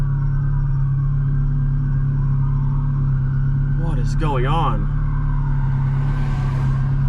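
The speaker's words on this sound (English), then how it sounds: "it's almost 30 cops have gone by, maybe more. And I can hear them all in on the street." Police cars stream past on a street, a continuous close rumble of engines and tyres. A man briefly asks a question partway through.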